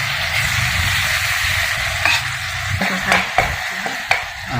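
Minced pork fries loudly in a hot pan, a dense, continuous sizzle close up with occasional sharp scrapes and knocks of stirring, no talk.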